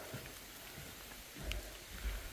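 Steady, soft rain patters over a forest campsite at a recreation area on Odosan in Hapcheon, a faint continuous hiss with a couple of slightly heavier drops and low thumps.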